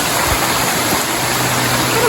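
Small waterfall on a creek along a Mt St Helens trail near Coldwater Lake, a loud, steady rushing wash of falling water close by, with no voices.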